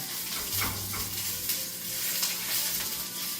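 Spinach wilting in a hot pan with the burner switched off gives a steady, soft sizzle and crackle, close by, with faint stirring scrapes and no voices.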